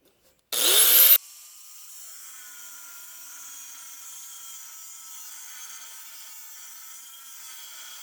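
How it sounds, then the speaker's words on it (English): A small 7-amp angle grinder fitted with a death wheel cutoff disc bites into metal with a brief, loud, harsh shriek lasting about half a second, then spins down into a faint, steady whine that lingers on alone. "What I like to do when I'm cutting with a death wheel is I'll score the line"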